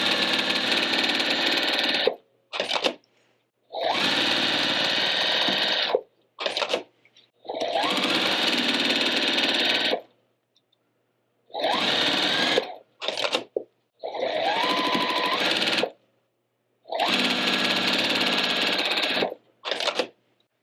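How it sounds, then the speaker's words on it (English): Sewing machine stitching quilt triangles, running in several steady buzzing bursts of a few seconds each with short quiet pauses between, close and clear with no talking. "I'm just going to line up that long edge in each corner and stitch this on."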